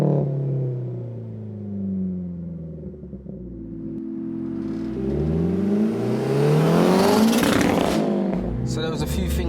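A 535bhp Mazda 3 MPS pulling away, its engine note rising steadily from a low idle rumble into a louder, climbing rev, close by with a voice talking over it.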